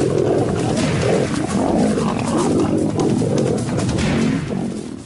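Several lions roar loudly and continuously, close by, their deep rumbling roars overlapping throughout with no talking.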